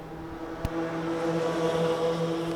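Junior racing karts at the Los Angeles Karting Championship, their engines droning steadily at moderate distance with a sustained buzzing tone and one sharp click early on.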